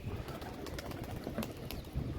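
A flying pigeon, just after landing, coos softly and low against a constant outdoor background hiss, with a few brief rustles.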